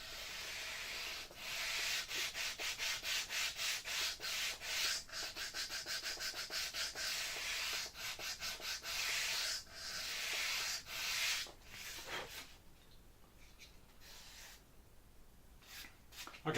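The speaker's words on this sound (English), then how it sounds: "I'm just sort of holding the sanding block at 45 degrees and sanding carefully" Rhythmic scratchy strokes of a sanding block rubbing back and forth, close and steady, then tapering into quieter, sparser scrapes.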